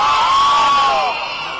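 Cheers and whoops from a crowd at a gathering applauding a county MCA, loud and close, with a shrill whistle-like tone sliding through the noise before the cheering fades slightly.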